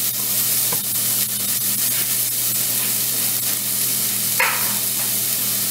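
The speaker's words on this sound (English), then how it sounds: "I'm going to saute my onions." Onions sautéing in a hot pan on the stove give a loud, steady sizzle and hiss throughout, with a few faint clinks and no talking.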